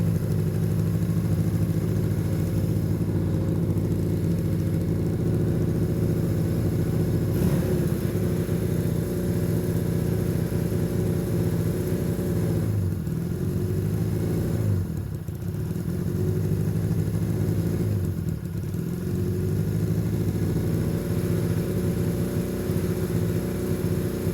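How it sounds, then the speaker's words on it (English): An old motorcycle engine, its carburetors freshly cleaned and reassembled, idles steadily with a low, even putter and a faint mechanical clatter. It runs close and continuous throughout, with no voices. "That bike idles now. And that bike idles because the carburetors were cleaned and reassembled properly."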